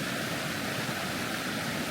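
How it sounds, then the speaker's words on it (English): Steady broadband rush of a backcountry creek running high, flowing water heard close and continuous with no voices. "Creek is running"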